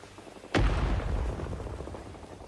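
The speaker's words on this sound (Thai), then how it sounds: "เฮ้ยระเบิด" A single loud explosion in Rising Storm 2: Vietnam bursts suddenly, then leaves a long, rumbling tail that slowly fades.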